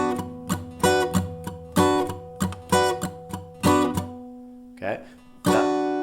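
Electric guitar playing a funk strumming pattern in a lesson, alternating ringing chord hits with muted, percussive scratches in a steady rhythm, clear and up close.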